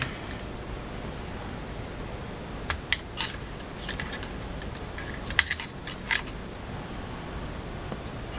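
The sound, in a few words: scrubbing the bottom rail of an AR-15 rifle while cleaning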